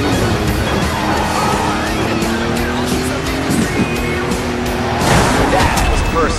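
Several cars race and collide in a DiRT Showdown arena, engines droning steadily with brief scrapes and a louder surge near the end, under game music and some talk.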